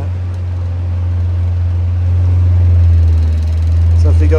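A Hall effect timing pulse motor runs steadily with a loud low hum and a whirring tone that rises slightly in pitch as the speed and timing are adjusted, heard alone and close.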